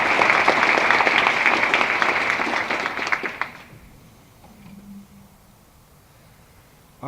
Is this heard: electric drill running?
no